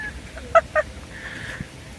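Two short, sharp honking calls from fighting ducks close together, with a faint squawk afterward over quiet outdoor background in autumn.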